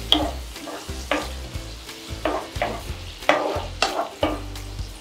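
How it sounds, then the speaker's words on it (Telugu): Onions fry in melted butter in a pan for cheese pasta, a soft sizzle under rhythmic spatula scrapes and taps that repeat every half second or so, close and alone. "ఇలా బటర్ మెల్ట్ అయ్యాక ఆనియన్స్ వేసుకొని కొంచెం ఫ్రై అయ్యాక"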